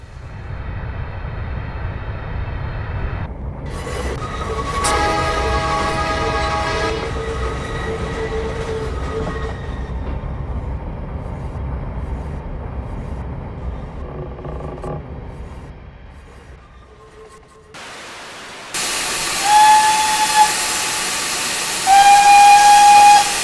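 The Great Western Railway 4-6-2 Pacific steam locomotive No. 111 The Great Bear in Train Simulator gives off loud steam hissing and working sounds with sustained whistle blasts, then a brief quiet gap before a loud, hissy final stretch.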